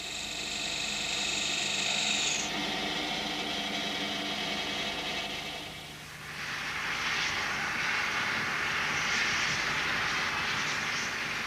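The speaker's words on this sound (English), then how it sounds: "in resharpening the chisel, this chap is pressing so hard the point is getting red hot" A steel chisel being resharpened on a grinder with heavy pressure: a steady motor whine and hum drones on, then gives way to a broader rushing grind that continues to the end.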